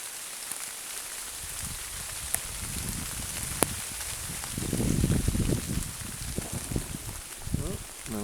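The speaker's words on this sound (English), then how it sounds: "I don't know if you can hear the rain in the trees here." Rain patters softly on forest trees at dusk near Kingscross, Whiting Bay, on Arran, a faint continuous hiss with scattered drips, while a voice talks quietly in the middle.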